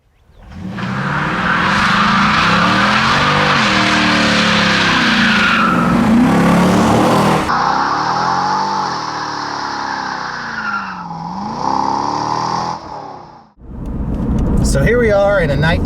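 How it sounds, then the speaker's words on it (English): A 1997 Chevrolet C5 Corvette on the move, its engine and road roar loud and steady with some tyre squeal, broken by abrupt shifts in tone near the end, with voices mixed in. "I'll give you a ride in this 97 Corvette right here"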